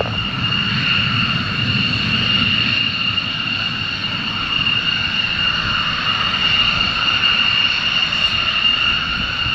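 A military jet taxis at RAF Waddington during Cobra Warrior 2019, its engine whine holding a loud, steady, continuous tone with a broad rumble underneath and no other sounds.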